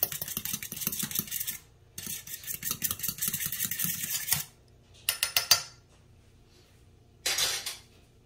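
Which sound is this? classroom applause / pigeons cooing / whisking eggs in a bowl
whisking eggs in a bowl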